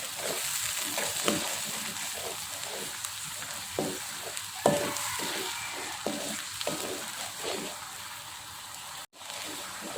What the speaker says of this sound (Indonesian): lalu kita masukkan juga ini serai. Oke, kita aduk rata. Kita masak hingga bumbunya tanak ya.